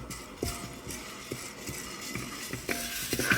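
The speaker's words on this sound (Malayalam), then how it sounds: "കടലപ്പരിപ്പ് വറുത്ത് പാകമായിട്ടുണ്ട്" Chana dal roasting in a pan while being stirred, for a moringa leaf idli podi spice powder, giving a soft dry rustle with scraping strokes of the spoon coming every half second or so.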